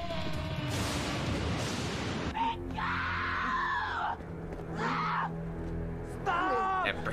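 Actress Bridget Wilson lets out several loud, shrill screams in a scene from the 1995 Mortal Kombat film, with crashing sounds and a soundtrack between the cries.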